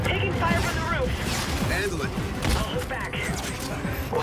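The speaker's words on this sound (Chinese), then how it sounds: "这把枪声音我特别喜欢。" Gunfire from a weapon in the shooter game Call of Duty: Infinite Warfare, a dense run of sharp, loud shots and impacts layered with other game effects, with a voice talking over it.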